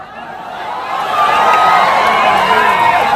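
A large crowd at a Tejashwi Yadav political rally gives a steady roar of voices and cheering that swells after the first second and holds loud and continuous.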